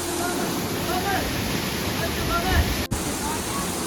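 Neer waterfall near Rishikesh gives off a steady broadband roar of falling water, continuous and fairly close, with a brief dropout near the end.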